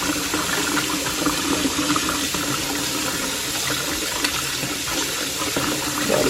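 Tap water running into a sink while rice is rinsed by hand, a steady loud rushing splash that continues throughout without speech.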